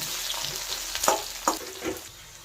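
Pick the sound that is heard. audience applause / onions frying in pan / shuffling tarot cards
onions frying in pan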